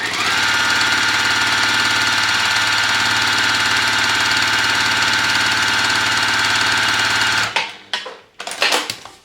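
A sewing machine stitches a jelly roll strip onto a quilt block in a steady, fast mechanical whir for several seconds, then stops abruptly, followed by a few brief handling noises.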